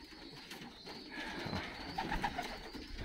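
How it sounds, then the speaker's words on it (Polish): Young racing pigeons in a loft squeaking after drinking, faint, soft high peeps and murmuring coos over a low background hum, a few brief calls clustered toward the end. "Napiły się, młode piszczą."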